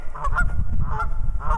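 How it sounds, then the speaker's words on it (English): Several geese honk repeatedly at close range, loud nasal calls in quick bursts over a windy background, with no talking. "We got some geese here"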